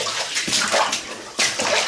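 Water churns as someone wades through it in an underground passage, with loud repeated sloshing and splashing surges roughly in step with walking.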